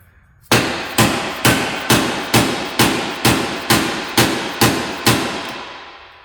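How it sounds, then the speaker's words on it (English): Ten evenly spaced, loud metallic hammer blows whack the damaged body parts of a wrecked Cadillac ATS-V back into place, each strike ringing and decaying before the next, with no talk. "you've got to whack things back into place so you can access the nuts and the bolts"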